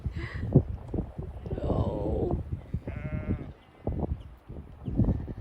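Sheep bleat a few times at close range, mixed with people talking nearby and some rustling.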